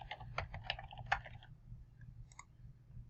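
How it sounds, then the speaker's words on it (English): A run of quick keyboard key clicks on a computer entering text onto a shared online whiteboard, busy for about a second and a half, then a few isolated taps, faint over a low hum. "You can type text on the screen."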